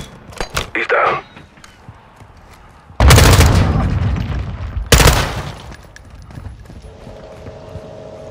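Loud bursts of gunfire in Call of Duty: Modern Warfare II during the Recon By Fire mission, two heavy volleys several seconds apart aimed at bringing down a target, with quieter game sounds between them.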